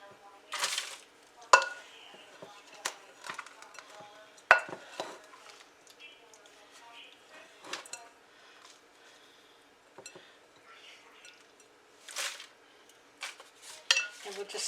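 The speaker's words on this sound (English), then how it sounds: "I'm going to put 2 cups of this mixture in my pan" Oatmeal cookie bar mixture scooped into a baking pan, with scattered soft thuds, scrapes and clinks of utensil against pan, moderately close, coming in irregular bursts with quiet gaps between.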